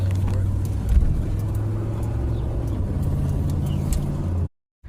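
Road traffic rolls past a parked 1987 Cadillac DeVille, a car's engine and tire rumble loud and close before cutting off abruptly near the end.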